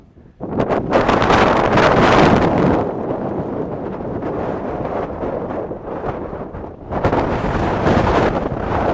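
Strong wind gusts at George Lake in the Sierra Nevada mountains, Inyo National Forest, roar across an exposed microphone in loud, continuous buffeting waves, easing briefly in the middle before picking up again.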